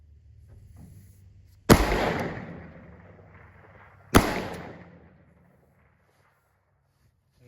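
Rifle fired at field targets, two loud, sharp shots about two and a half seconds apart, each followed by a rolling outdoor echo that fades slowly into quiet.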